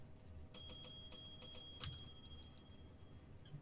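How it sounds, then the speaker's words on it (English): A bell in the video game A Hat in Time rings out as it is pushed, sustained shimmering tones starting sharply and fading, with a second strike partway through over a steady game background. "Alright, so this is a bell."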